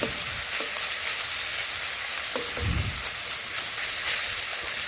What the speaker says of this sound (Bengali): এখন দেখুন মাছগুলো নাড়াচাড়া করে আমি ভেজে নিচ্ছি।